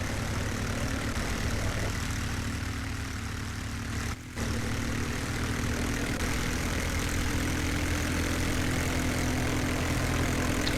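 A propeller plane in the multiplayer war game Forgotten Honor, on the Desert Winds map. The engine drones loud and steady throughout, broken only by a very brief dropout near the middle, with no talking.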